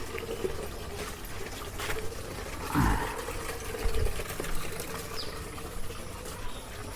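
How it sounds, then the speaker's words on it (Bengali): Water pours and trickles into a container in a continuous stream, with some faint clattering in the background. "তো পানি আবেদা বুঝাই করতেছে, বুঝাই করুক"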